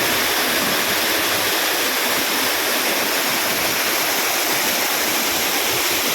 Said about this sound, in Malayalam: ഇതാണ് നമ്മൾ ഉദ്ദേശിച്ച വെള്ളച്ചാട്ടം